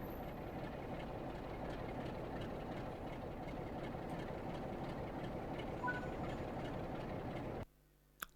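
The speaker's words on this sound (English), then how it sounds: "But doesn't the train sound good?" A simulated train in Train Sim World 3 sits at a Manchester station. Its engine gives a steady low rumble with faint rhythmic ticking, holding evenly before dropping away abruptly near the end.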